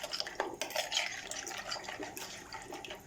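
Dry yeast being stirred in a bowl with a spoon, giving a soft, continuous scraping and light clinking of metal against the bowl, close and steady throughout with no talking.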